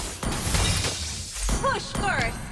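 A turret in Mobile Legends being destroyed: crashing, shattering bursts repeat over a couple of seconds, loud and close, mixed with a voice and chirpy game effects.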